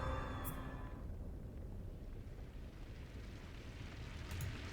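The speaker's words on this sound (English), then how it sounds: "An explosion?" Explosion in the Root Double: Before Crime * After Days video game, a dense, sustained low roar that rumbles steadily throughout with a couple of brief sharp crackles riding on top.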